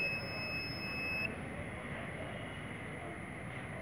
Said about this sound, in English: this beeper here will give two consecutive beeps